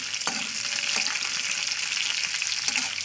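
Vegetables and spices frying in hot oil in a pan for chirer polau (flattened rice pilaf), a steady close sizzle with a few light stirring clinks and no talking.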